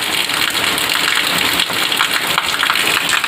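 Heavy monsoon rain pours down in a dense, continuous, loud hiss with no pauses and no talking.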